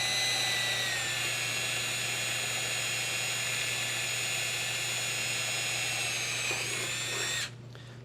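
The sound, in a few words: drilling out a rivet in sheet metal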